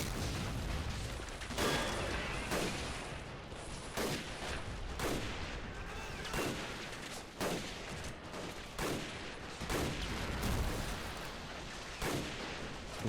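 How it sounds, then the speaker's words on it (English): Mortar rounds and explosions in water in the Men of War strategy game, a series of sharp booming blasts every second or so with splashing crashes between them, moderately distant, with no talk. "Mortars trying their best. I love the new water explosions."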